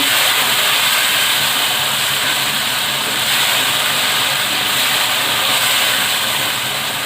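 Minced meat (keema) roasts in a hot pan, giving a loud, continuous broadband hiss of sizzling that stays even throughout with no talking.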